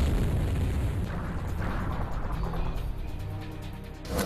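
A documentary effect of an artillery barrage and dive-bombing explosions: a heavy boom opens, followed by rolling rumbles and scattered bursts that fade, then another blast at the end.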